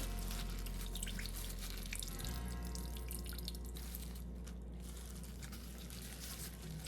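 Salty, bitter water squeezed by hand from salted, softened cabbage drips and trickles into a basin, a faint, continuous run of small splashes close by in a quiet kitchen.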